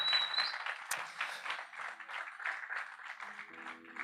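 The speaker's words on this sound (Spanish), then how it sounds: "Dale un aplauso al Señor" Church congregation applauds for the Lord, a soft, uneven patter of clapping heard faintly and somewhat distant, with a brief sharper clap near the start and faint tones underneath.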